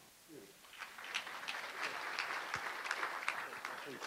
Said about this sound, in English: And I think this man deserves an applause.